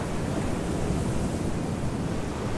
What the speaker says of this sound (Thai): แค่ได้ยินเสียงคลื่นก็เหมือนได้ไปเที่ยวแล้วป่ะ